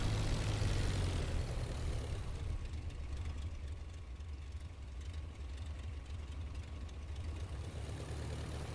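An aircraft engine idles steadily in the IL-2 Flying Circus flight sim before takeoff, a continuous low droning rumble that is louder at first and then settles into an even, unbroken hum, with no voices.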